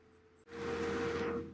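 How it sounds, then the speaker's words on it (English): A marker is drawn across glossy photo paper in one steady, close scratchy stroke after a short quiet pause. "I'm going to go ahead and write on it."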